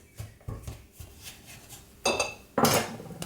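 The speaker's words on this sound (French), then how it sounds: "je commence par couper le melon en deux" A knife cuts a whole melon in half on a board, giving a few soft knocks and taps, then two louder crunching, rasping slices through the rind near the end, close and with no talk.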